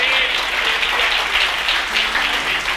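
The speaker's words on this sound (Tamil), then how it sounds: "கைத்தட்டுங்க ஒரு அவருக்கு" A church congregation at a Bible study message applauds in a steady wash of continuous clapping, moderately loud and even throughout, with a faint voice or tone threading beneath the crowd.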